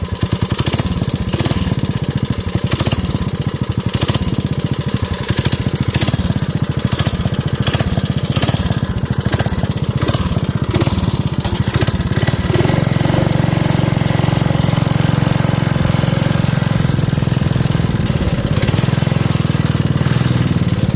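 A Craftsman 5.0 riding lawn mower engine runs loud and steady, starting with an uneven, knocking idle, then settling into a smooth, constant drone as the throttle is held open, with no talking.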